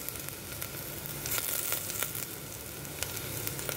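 Onions frying in hot oil with ginger juliennes and green chillies just added, a steady close sizzle with crackling bursts and occasional stirring, no voices.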